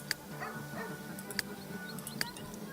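A dog barks in The Sims 3, giving three short, sharp yips spaced about a second apart against a faint background hum, fairly quiet and distant.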